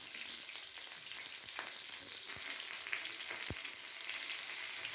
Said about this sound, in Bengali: পটলটাকে কড়াইতে একটু বেশি করে তেল দিয়ে হালকা আঁচে ভেজে নেব